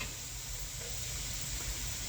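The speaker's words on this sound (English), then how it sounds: "We're going to put our sausage in. You can hear that sizzle." Steady, loud sizzling of sausage frying in a hot pan, a continuous crackling hiss with no talking.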